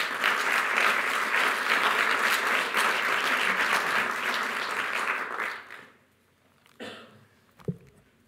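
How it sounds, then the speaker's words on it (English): Audience applause welcoming Tony Travers at a summit fills the room with dense, loud, steady clapping for about six seconds, then dies away, leaving a few faint knocks and thumps. "Please give him a warm round of applause."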